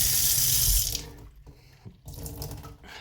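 Chlorinated municipal tap water gushes into a sink, a loud splashing stream that cuts off after about a second, followed by quieter dripping and trickling.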